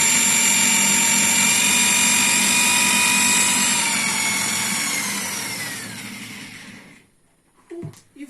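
A homemade generator built from an induction motor runs with a steady, loud mechanical whine and hum, then spins down over several seconds into near silence, followed by a few brief clunks.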